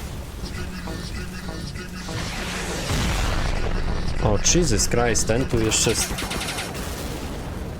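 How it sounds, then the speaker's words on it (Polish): Explosions and gunfire from an animated Skibidi Toilet episode rumble and crackle in bursts, heard under excited talk from a man reacting over them. "Jakie wybuchy, słuchajcie, szaleństwo normalnie."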